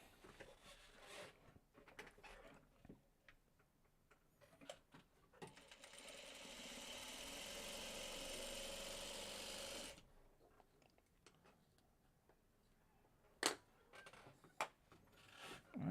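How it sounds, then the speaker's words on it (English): A sewing machine stitching a quilt block runs in one continuous whirring stretch of several seconds, with quieter handling clicks and taps before and after. "let's start sewing this block together."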